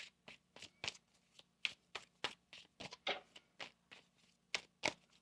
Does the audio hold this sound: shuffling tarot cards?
yes